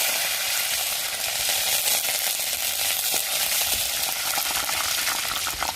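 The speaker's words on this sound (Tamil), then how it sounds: "நம்மளுக்கு எண்ணெய் சூடாயிருச்சு கடுகு உளுந்து போட்டுக்கிறோம்" Mustard seeds and urad dal sizzling in hot oil: a loud, dense, continuous crackling hiss with tiny popping bursts, close up and with no voices.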